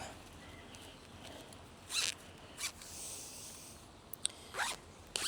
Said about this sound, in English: I'm going to zip these ones up.